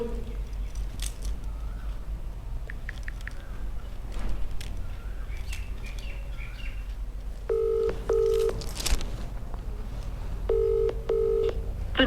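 Phone keypad dialing tones beep in two short clustered bursts, separated by a stretch of quiet room noise. Brief rustles and clicks sit between them, and no one speaks.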